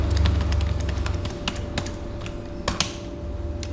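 Fast typing on a computer keyboard, heard close as a quick run of light plastic key clicks with a few louder taps, over a low steady background hum.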